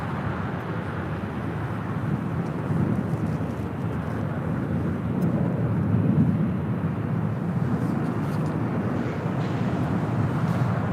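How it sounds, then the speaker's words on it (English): A Boeing 777 freighter pushing back at LAX gives off a steady low jet-engine rumble and broadband roar, swelling slightly midway, heard from nearby with no talking. "777 freighter now pushing back here on the south side"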